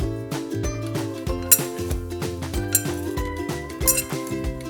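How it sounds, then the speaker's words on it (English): Metal utensil clinking repeatedly against a bowl while roasted potatoes are mixed for brown butter roasted potatoes, a quick run of bright taps and knocks over soft background music, with no talking. "Now let's mix this together."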